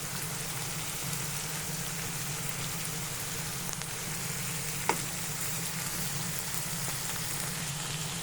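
Green chillies sauté in hot oil in a pan for ridge gourd chutney, giving a continuous, even crackling sizzle like light rain, with one brief sharp tick midway and no voices.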